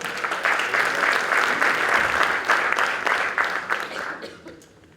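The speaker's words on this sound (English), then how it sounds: "round of applause." Audience applause at a startup pitching session, a dense, steady round of clapping from a crowd that holds for several seconds and then fades out.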